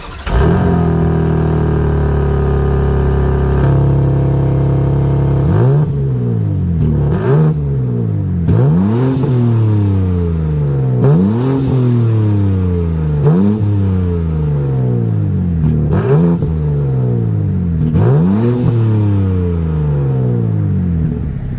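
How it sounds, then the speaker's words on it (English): A 2022 BMW M3 Competition xDrive with its exhaust close by idles with a deep rumble, then gets blipped through a steady series of about eight sharp revs, each rising and dropping back quickly. "give you guys a little bit of an exhaust rev test"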